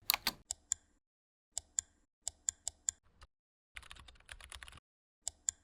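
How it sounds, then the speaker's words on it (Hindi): Computer keyboard keys pressed in short bursts of sharp clicks, a few single taps and a quick run of rapid typing, close and clear in an otherwise quiet room. "आपके पास वर्ड की कोई भी फाइल ओपन है तो आपने कीबोर्ड से Ctrl+N प्रेस कर देना है।"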